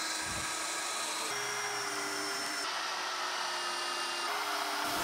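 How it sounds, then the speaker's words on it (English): A power driver runs deck screws into a board at the bottom of a wooden shed ramp, giving a steady, continuous whine with shifts in pitch as each screw seats, close and fairly loud, with no talking. "I then secure the board to the bottom of the ramp using deck screws"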